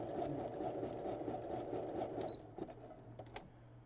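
A sewing machine runs steadily stitching quilt fabric for a scrappy crumb quilt square, a close, even mechanical whir that slows and stops near the end with a few clicks.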